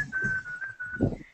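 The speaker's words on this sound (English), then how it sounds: "I was whistling and then I stopped and someone carried on" A person whistles a short tune alone: a thin, steady, fairly faint melodic line lasting just over a second, with a little background rustle.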